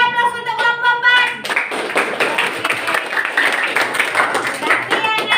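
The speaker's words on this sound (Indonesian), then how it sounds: "Beri aplaus untuk kelompok" A classroom of students applauds a group's presentation, a steady wash of many hands clapping that swells after the first moment and continues evenly, with some voices mixed in.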